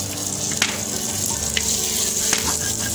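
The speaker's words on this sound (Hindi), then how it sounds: "टमाटर डाल दिए मैंने, लहसुन अदरक का पेस्ट और सब्ज़ मिर्च भी बीच में।" Onions, tomatoes, garlic-ginger paste and green chilies frying in a pan for chicken tikka biryani, a steady loud sizzle with a few sharp pops and stirring scrapes, close up with no talk.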